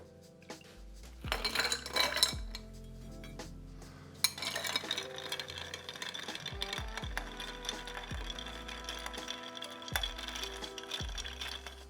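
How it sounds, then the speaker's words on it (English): Ice clinking and rattling as a coffee cocktail is stirred in a mixing glass, a steady run of small clinks and scrapes, close and moderately loud, with no talking. "and then stir for 20 seconds."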